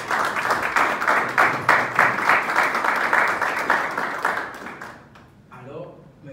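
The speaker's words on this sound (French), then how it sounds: "Je pense qu'il mérite des applaudissements." Audience applause at a student youth forum, a dense sustained wash of many hands clapping from a large crowd for about five seconds before fading out, with a voice starting to speak near the end.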